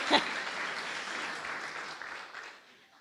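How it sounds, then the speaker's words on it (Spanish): Audience applause for a group of boys at a church event, a sharp burst of clapping that settles into steady, fairly faint applause and slowly fades. "Un aplauso para los muchachos"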